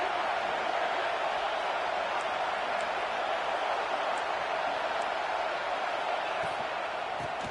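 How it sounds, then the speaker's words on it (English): A stadium crowd roars at a Michigan State vs Penn State college football game, giving a loud and sustained wash of cheering with no breaks and the texture of a distant, massed noise. "This crowd bringing an ear-splitting welcome to their visitors."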